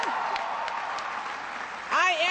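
A crowd at a political rally for a candidate in Wisconsin applauds with dense, sustained clapping and cheering, and a voice speaks over it near the end.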